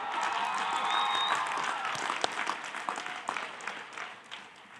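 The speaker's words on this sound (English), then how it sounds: "Can we give a big round of applause to the people who funded this entire operation?" Audience applause at a College of Engineering and School of Social Work graduation ceremony, honoring the graduates' parents; steady broadband clapping from a crowd at moderate distance, swelling early then thinning into scattered claps.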